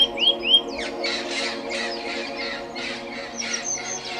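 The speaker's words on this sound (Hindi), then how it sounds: "आगे है तोता।" A parrot gives a few sharp, shrill calls near the start, then keeps up a run of rough squawks and chirps at moderate volume over a steady background hum.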